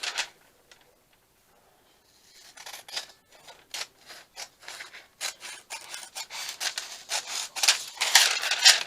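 Scissors cutting through junk mail paper, starting with a few faint snips, then a long run of dense, raspy cuts growing louder and busier toward the end, close up with no talking.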